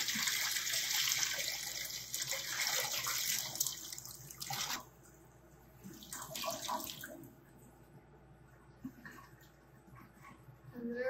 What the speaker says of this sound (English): We're going to empty the water.